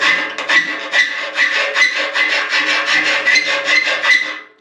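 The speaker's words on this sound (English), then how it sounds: "now I've got the boring bit of sitting here with a file" Steady rasping strokes of a hand file on metal, close and loud, repeating in an even back-and-forth rhythm for several seconds.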